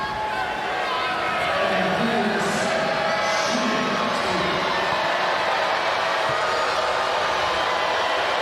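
A basketball arena crowd at a Canadian Elite Basketball League game between the Calgary Surge and the Winnipeg Sea Bears, a steady, dense roar of murmur and cheering filling the space during free throws, with a commentator's voice running over it.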